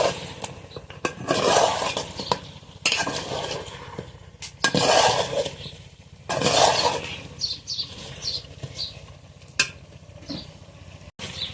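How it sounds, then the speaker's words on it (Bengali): Mutton cooking with tomatoes in a pan, without oil, heard as repeated clatters and scrapes of a utensil stirring against metal over a soft sizzle, in bursts with short pauses, close by and moderately loud, no talking. "এখন টমেটোর সঙ্গে মাংসটা ভালোভাবে কষিয়ে নেব।"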